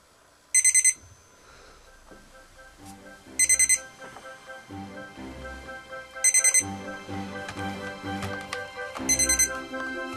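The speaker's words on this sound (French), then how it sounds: "À 5h30 du matin, le réveil de Robert sonne trois fois" An alarm clock at 5:30 in the morning gives four short, bright bursts of ringing, evenly spaced about three seconds apart, over a soft background melody.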